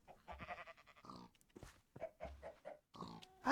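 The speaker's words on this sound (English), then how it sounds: "Oh, we've got 3 pigs." Minecraft pigs grunt in short repeated bursts among other farm animals, including goat-like bleats, near and fairly loud, with no voices.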